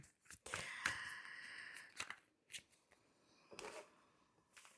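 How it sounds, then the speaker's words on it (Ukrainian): Tarot cards gathered back into a deck, quiet close rustles and sliding card taps in several short bursts separated by brief pauses. "Зберу колоду, щоб була повна."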